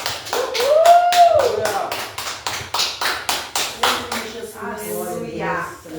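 A church congregation claps together in a steady rhythm for Jesus, with a voice speaking over the start and the clapping continuing strongly to the end.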